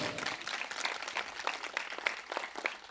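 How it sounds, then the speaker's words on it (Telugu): A church congregation at a gospel meeting claps together, a dense moderately loud patter of hands with faint voices mixed in. "కొట్టండి చప్పట్లో ఒకటే"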